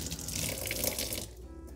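Running tap water splashes steadily as the blue part and window of a refractometer are rinsed clean, close and moderately loud, then cuts off near the end.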